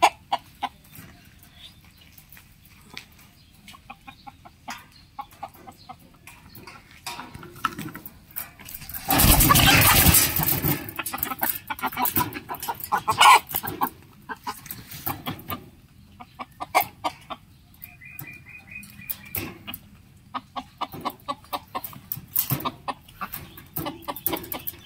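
Chickens caught in the Malaysian jungle give scattered clucks and short calls at close range, with a brief loud burst of flapping or commotion midway amid quieter rustling.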